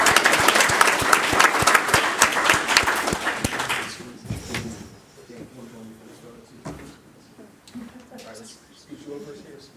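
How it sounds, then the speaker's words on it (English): Applause at a city council meeting in Manvel, loud and dense for about four seconds, then dropping away into quieter room noise and scattered voices. "if we can give them a round of applause, thank them for all their hard work."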